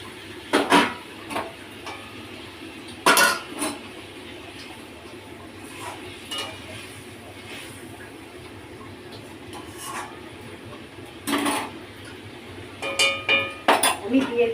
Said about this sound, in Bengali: আমি এবার এই চিকেন মাঞ্চুরিয়ানটা দিয়ে দেবো।